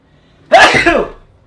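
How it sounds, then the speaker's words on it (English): A single loud, sudden sneeze bursts out close to the listener, with a short breathy tail and no talking around it. "Gotta sneeze."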